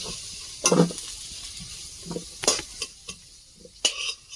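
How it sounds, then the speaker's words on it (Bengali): Potatoes being fried in a kadai, with stirring scrapes and short bursts of sizzle at separate moments over a quiet, steady hiss of oil. "আলুটা খুব ভালো করে ভেজে নিয়েছি, এবার তুলে নেব।"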